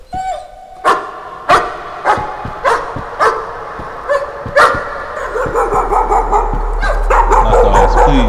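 Dogs bark repeatedly in the horror game Layers of Fear, a string of sharp, loud barks roughly every half second that then blur into denser yipping over a rising low rumble and eerie ambience.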